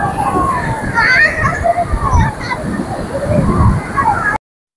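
Sea water washing and sloshing at Puri beach, a steady broadband churn of surf with children's voices and other people talking over it throughout.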